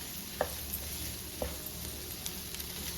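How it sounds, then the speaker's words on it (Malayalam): Masala kozhukatta filling being stirred and mixed in a pan for Kerala-style rice-flour dumplings, a soft low sizzle with two sharp spoon knocks against the pan and light scraping, no voices. "എല്ലാം കൂടെ നമുക്കൊന്ന് ഇളക്കി യോജിപ്പിച്ചെടുക്കാം"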